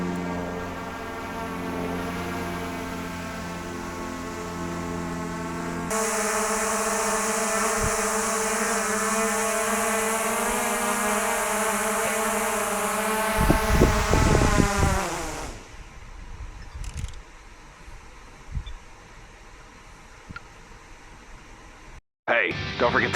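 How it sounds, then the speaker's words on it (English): An Antigravity A1 drone flies with a steady whining motor hum that rises in pitch, then cuts off sharply, leaving quieter handling noises and a few brief thumps near the end. "I didn't mention the drone is actually pretty quiet."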